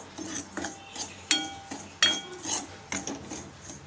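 Wheat rava roasting in ghee in a pan, stirred with a metal spoon: repeated close scrapes and sharp clinks against the pan in an uneven rhythm, with no voices.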